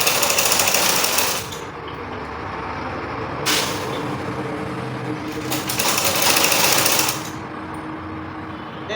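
A sewing machine stitches a women's long sleeve with a cuff, running in several bursts of steady, buzzing whir separated by quieter pauses, close and fairly loud.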